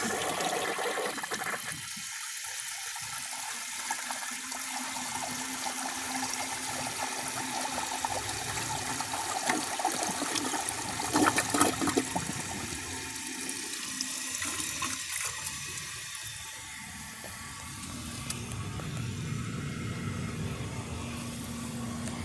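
A 1981 Briggs Conserver toilet flushes a washcloth with a loud, continuous rush of water that runs for the whole stretch, then eases into refill gurgling and trickling.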